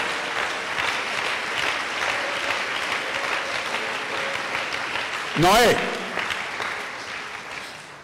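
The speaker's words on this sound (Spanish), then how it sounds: "Alguien que lo aplauda por un momento a él." A church congregation applauds during a sermon, steady dense clapping sustained for several seconds, with a preacher's voice briefly heard over it near the end.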